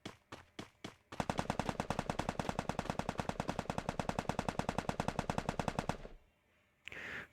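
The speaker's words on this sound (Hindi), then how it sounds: "मुझे वापस फायरिंग की आवाज़ आ रही है" Automatic gunfire in the Free Fire video game: a few single shots, then a long, rapid, loud burst of evenly spaced rounds that stops abruptly, followed by a short quieter tail.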